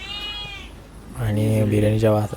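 A house cat gives a short, thin meow, and then someone talks over it.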